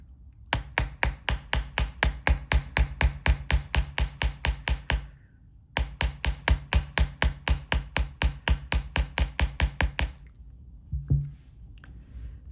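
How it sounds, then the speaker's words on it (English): Rapid, steady hammer blows ring out on metal as a wire loop is flattened on a block, two long runs of sharp regular strikes separated by a short pause, loud and close. "I'm going to do the hammering now just so you can see"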